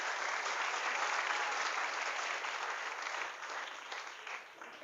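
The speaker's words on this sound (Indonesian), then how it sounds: "Tepuk tangan untuk Pondok Pesantren Wali Songo." A crowd of Islamic boarding school students and parents at Pondok Pesantren Wali Songo applauds, a dense, even roar of clapping that holds steady and then tapers slightly toward the end.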